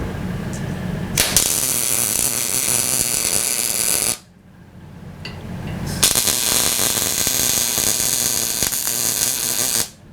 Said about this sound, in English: I'm going to have to put a clamp on this to bring this in